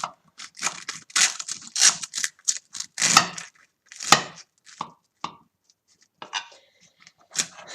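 A knife slices through a baked fajita in a run of close, crisp cutting and crunching strokes separated by short pauses, with no voices.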